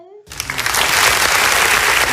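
Loud, dense applause from a crowd erupts after a brief quiet moment and continues steadily to the end.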